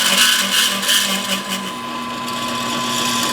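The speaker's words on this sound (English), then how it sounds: "we're probably reaming a little bit fast, but whatever." A reamer spinning in a power tool to ream a hole in an AK rifle center support, giving a steady loud whine with a whirring metallic drone that shifts slightly partway through.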